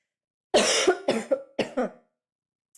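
A close, loud cough in a quick cluster of three or four harsh bursts, then silence.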